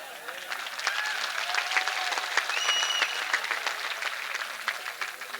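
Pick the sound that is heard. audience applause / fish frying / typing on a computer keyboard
audience applause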